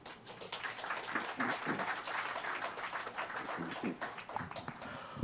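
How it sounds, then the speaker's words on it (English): An audience at a channeling talk applauds, a moderate, steady patter of many hands clapping at mid distance that carries on across the whole stretch without a break. "thank you for applauding yourselves"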